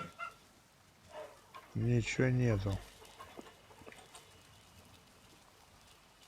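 Chickens in the medieval survival game Life is Feudal give a short burst of loud, layered clucks, with someone talking quietly before and after.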